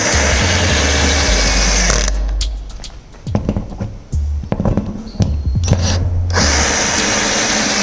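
Power drill driving washer screws through wood into a steel frame on a tiny house roof, a loud close whine running at full speed, dropping out for a few seconds of clatter and handling, then revving again.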